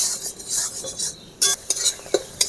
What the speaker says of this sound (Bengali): পেঁয়াজটা ভালো করে ভেজে নিতে হবে।